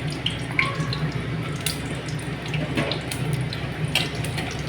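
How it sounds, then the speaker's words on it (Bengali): Whole cumin seeds frying in hot oil with dried chilli and bay leaf for a cauliflower dish, giving a steady close sizzle broken by scattered small pops and crackles. "গোটা জিরা দিয়ে দিলাম।"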